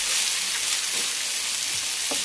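Sliced potatoes and onions fry in oil while they are stirred, giving a steady, loud, close hiss of sizzling with a few soft scrapes and no talking.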